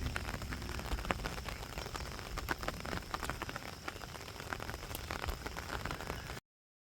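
Steady rain falling in a hometown setting, a continuous dense patter of drops on surfaces, moderately close and even, with no voices, ending abruptly.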